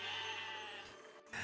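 A sheep in the physics building game Besiege gives a single, faint, drawn-out bleat, heard alone against steady background noise.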